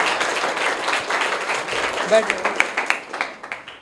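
A crowd at a private school prize announcement applauds, steady clapping that builds into sharper, louder claps toward the end, with some voices mixed in.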